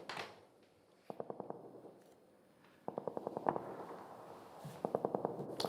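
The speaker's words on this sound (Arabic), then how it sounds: "صوت رصاص جاي من صوب بيت شيخ الجبل." Gunshots heard from inside a house, several quick bursts of sharp cracks in rapid rhythmic volleys, moderately distant and muffled, separated by brief lulls.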